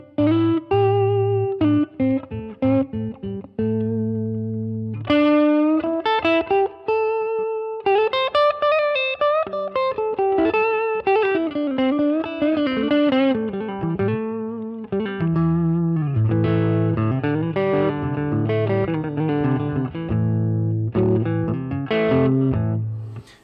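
A clean electric guitar on the neck pickup plays melodic single notes and chords through a Marshall DSL1CR amp's clean channel, reverb at 12, giving a lush reverb tail, loud and close, no voices.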